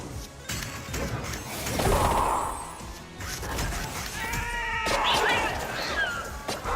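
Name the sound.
cat meowing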